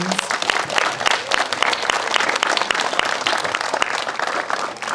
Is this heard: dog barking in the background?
no